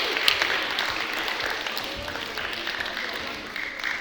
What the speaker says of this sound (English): Give your teachers a round of applause